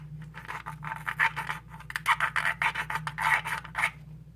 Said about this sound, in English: let's try and scratch the front. So, using my screwdriver